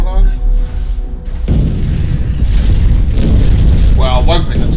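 A missile pod weapon fires in a video game with loud, continuous booming and rumbling blasts that fill the scene, and a voice is heard briefly at the start and end.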